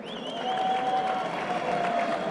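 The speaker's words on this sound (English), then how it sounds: "Let's give them a big round of applause." A crowd at a televised event applauds a national football team, a steady wash of dense clapping at moderate volume lasting the whole moment without speech.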